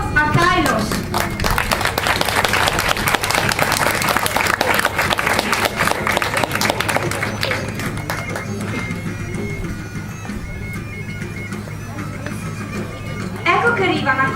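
Outdoor audience applauding during an ancient Venetic costume parade, steady crowd clapping for most of the clip with some children's voices mixed in, fading slightly near the end before a short renewed burst.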